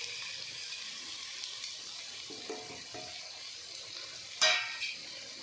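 Chicken sautés with turmeric, coriander and chilli powder in a pan, a steady quiet sizzle with soft stirring scrapes and one brief louder clatter near the end, heard close without talk.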